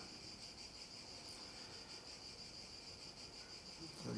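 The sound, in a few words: cicadas chirping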